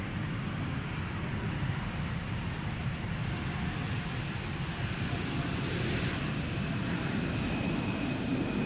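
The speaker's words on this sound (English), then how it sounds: "Embraer 175 arriving from Hamburg" A KLM Embraer 175 arriving at Schiphol from Hamburg, a steady, moderately distant jet rumble and hiss holding even throughout, with a faint higher whine near the end.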